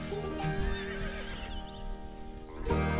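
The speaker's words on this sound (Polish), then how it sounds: "Koń islandzki to jedyna rasa koni, która występuje w tym kraju." An Icelandic horse neighs loudly and close by in Iceland's western fjords, its whinny rising and falling over about three seconds with a second burst near the end and faint hoof clops underneath.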